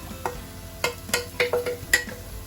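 Bulgogi sauce sizzles in a hot pan with onions, a low hiss broken by a series of sharp clicks and scrapes from stirring, with no voices.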